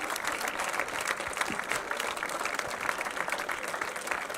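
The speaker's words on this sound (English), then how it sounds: "Everyone here is clapping for the DARE team." A crowd at a rocket launch event applauds steadily after a scrubbed flight attempt. The continuous clapping sounds fairly faint and distant, with no clear talking over it.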